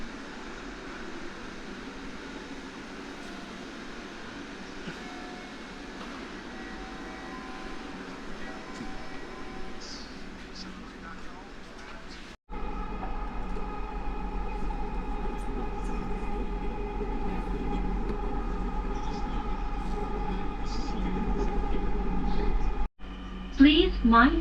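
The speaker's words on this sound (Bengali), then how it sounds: "আমরা উঠে যাব কোনো একটি ট্রেনে।" Dhaka Metro Rail train at a station and on board, a steady rumbling hum that drops out and returns louder and fuller as the carriage moves, with faint chimes and announcements over it.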